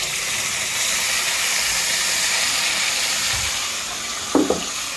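A spice paste of ground ginger, garlic, onion and cumin hits hot oil with browned onions in a pan, giving a steady loud hiss and sizzle with a couple of brief utensil clinks near the end.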